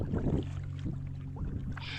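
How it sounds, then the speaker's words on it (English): Paddle strokes from a canoe or kayak moving down the Ocklawaha River, soft splashes and water swishes recurring a few times, close by, over a steady low hum and light wind, with no talking. "as I paddled down the Ocklawaha River."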